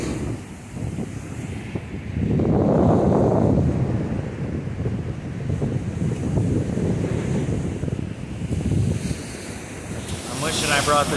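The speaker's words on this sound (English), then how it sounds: "The waves are big here." Surf crashes and washes in rolling swells, heavy wind buffeting the microphone throughout, loud and close.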